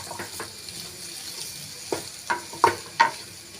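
A spoon stirs boiled potatoes into sautéed onion and capsicum in a pan, giving four distinct scraping clacks in the final second and a half over a faint background, with no one talking.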